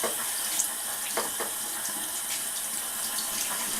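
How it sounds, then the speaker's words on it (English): Tap water pours steadily into a sink while makeup brushes are rinsed, a constant bright splashing hiss with a few small gurgles and clinks. "so the water's running pretty clear out of it"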